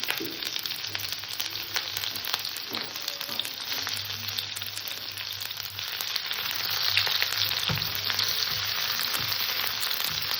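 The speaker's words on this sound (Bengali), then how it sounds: "পেঁয়াজ কুচিটাকে একটু হালকা করে ভেজে নেব" Chopped onion fries in oil seasoned with cinnamon, cloves and cardamom, a steady moderate sizzle and crackle that swells slightly toward the end.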